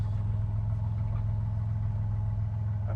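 A rat rod with a brand-new Blueprint crate engine and Turbo 400 drivetrain idles steadily nearby, a deep, even rumble with a faint rhythmic pulse throughout.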